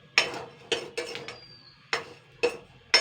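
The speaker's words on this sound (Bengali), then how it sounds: "তবে এরকম হাতা দিয়ে আগে নাড়াচাড়া করে নিতে হবে, আর ছাঁকনিটা দিয়ে নেড়ে চেড়ে নেবেন এক্সট্রা বালিগুলো" Black chickpeas roasting in sand in a pan, stirred with a metal ladle and strainer: six sharp scraping, rattling strokes at roughly half-second to one-second intervals, close and fairly clear, with no talking.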